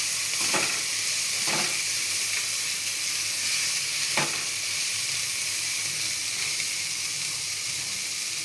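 Tomato frying with potato in a pan gives a constant close sizzle and hiss, broken by a few scraping strokes of a spoon stirring the mixture; no one speaks over it.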